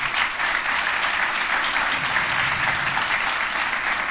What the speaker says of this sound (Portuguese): Você pode aplaudir ao Senhor nessa manhã?